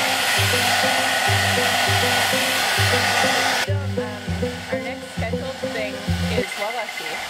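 A hair dryer blows with a loud, steady rushing roar for about three and a half seconds, then cuts off abruptly while rhythmic music carries on underneath.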